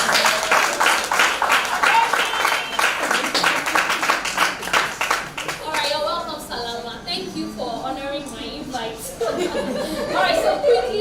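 A room of attendees at a business mentoring session claps for a woman put on the spot, a burst of clapping that fades into chuckles and chatter as people talk over the dying applause.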